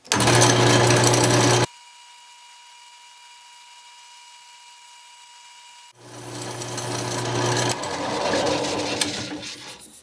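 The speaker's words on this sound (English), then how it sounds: "I just took my time and got this sanded up to a 600 grit finish." A spinning lathe whirs steadily, cutting out and then spinning back up, with a rough sanding sound against a turning purpleheart wood pen blank, sanded up to 600 grit.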